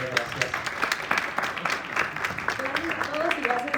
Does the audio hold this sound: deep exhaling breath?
no